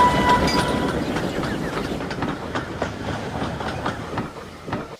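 A steam engine train from an animated story rolls along rails with steady rhythmic clickety-clack and chuffing that gradually fades, with a brief faint whistle-like tone at the start.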